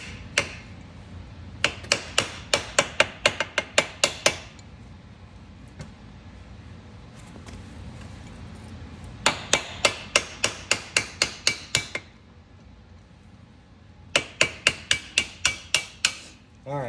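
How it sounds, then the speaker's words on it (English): Sharp metallic hammer strikes on a Wesley Fab rearset being fitted to a Honda Grom motorcycle, coming in three quick rhythmic bursts of about ten blows each, separated by quiet pauses. "so I could hit on this with the hammer and not have it in the way the whole time"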